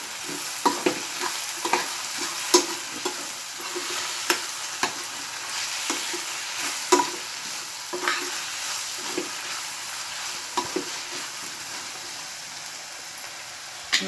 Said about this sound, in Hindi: मैं इसमें भिंडी डालूंगी और इसे प्याज के साथ अच्छे से मिलाऊंगी।